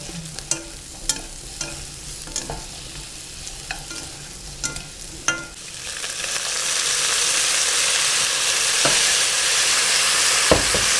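Braised burdock root being stir-fried in a pan, scattered spatula scrapes and taps over a steady sizzle that swells into a loud, continuous frying hiss in the second half, with no voices.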